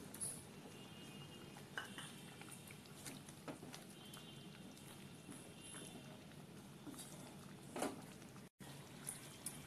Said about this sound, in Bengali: এরপর ভাজা আলুগুলোকে দিয়ে দেবো।